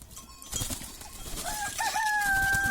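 Birds call and chirp outdoors while being given a shower, with a few clear whistled notes rising over a rustling, noisy background.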